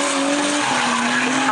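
A Skyline drift car slides through a D1 qualifying run, its tires squealing steadily over the loud engine roar without a break.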